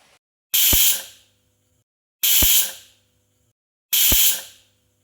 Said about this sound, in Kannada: ಈಗ ಇದನ್ನು 3 ವಿಷಲ್ ಕೂಗಿಸ್ಕೋಬೇಕು